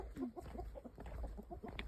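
Chickens cluck in a short burst of quick, close, fairly soft calls at a mountain base camp in the Himalayan foothills near Pokhara, with a steady low background hum.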